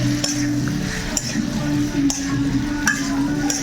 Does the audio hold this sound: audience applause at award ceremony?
no